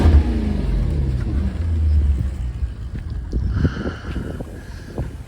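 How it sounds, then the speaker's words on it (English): A 2008 Maserati Gran Turismo S engine runs at a steady, smooth idle, a deep low rumble that holds close and continuous throughout with slight swells in level. "you can tell the car idles phenomenal, perfect,"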